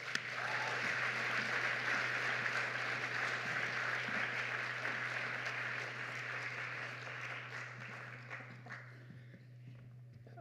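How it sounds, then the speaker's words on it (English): Audience applause fills a hall at the ISF 2024 closing ceremony, a broad sustained clapping with a low steady hum beneath, holding for several seconds before thinning and fading out near the end. "Let's give her a one more round of applause."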